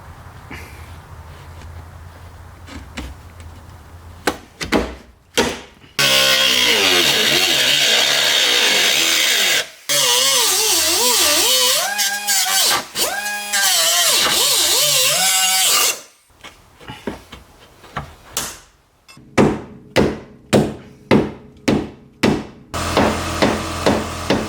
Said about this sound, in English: so I'm going to trim the fender liner here and we'll do a little bit of cutting